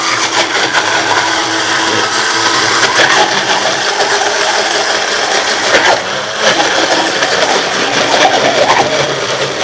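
An electric kitchen juicer machine runs loud and close as a steady whirring drone with a rough grinding edge that holds without a break, with no voices over it.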